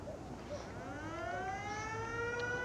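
Rising, wailing siren of a vintage fire truck rolling in a Memorial Day parade in Hazel Park, a steady drawn-out tone climbing in pitch over crowd and street noise.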